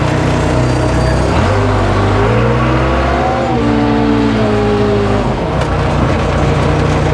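Case 580C backhoe diesel engine pulling in second gear after a brake repair, loud and close, revving up with rising pitch sweeps and then settling, steady throughout with no talk.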